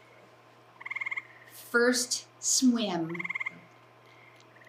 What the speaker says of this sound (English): you can just hear the gray tree frogs there